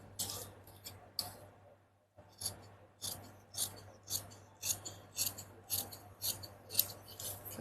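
Scissors snip through blouse fabric in a steady series of short, crisp, close cuts with a brief pause near the start and a low hum underneath.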